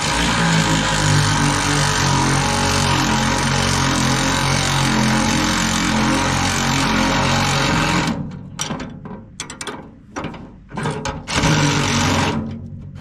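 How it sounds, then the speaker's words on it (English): A cordless battery-powered Earthquake ratchet loosens bolts on a Massimo Warrior UTV, buzzing continuously and loudly for several seconds before breaking into short bursts and stops. "battery powered, a cordless ratchet. Earthquake works good."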